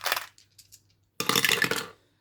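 Two dice clatter across a hard surface at close range: a short rattle, a few faint ticks as they settle, then a longer, louder rolling clatter that stops abruptly, with no voices.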